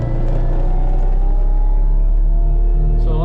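A new mulcher fitted with fresh knives spools up, a loud continuous low engine rumble holding steady and rising slightly in pitch, heard alone.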